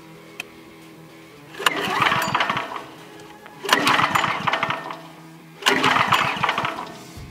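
A gasoline engine on a tool at an off-grid cabin is pull-started three times, each attempt a loud close sputtering burst lasting about a second or two before dying back to quiet.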